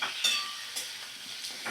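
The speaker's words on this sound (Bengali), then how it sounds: "এবার আমি সুন্দর করে ভাজা করে নিচ্ছি টমেটো।" Tomatoes fry in a little oil over a medium gas flame, giving a soft, faint sizzle broken by a few quick scraping stirs.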